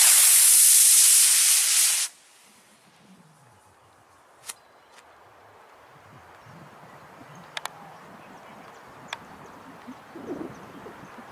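A model rocket lifts off on a Hawaiian autumn morning with a loud, close roaring hiss that lasts about two seconds and then cuts off, leaving quiet outdoor air with a few faint bird chirps and distant voices.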